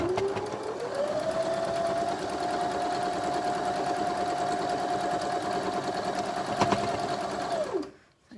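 A sewing machine stitches the seams of a Card Trick quilt block in one long, continuous run, its motor humming at a steady pitch before slowing and cutting out near the end.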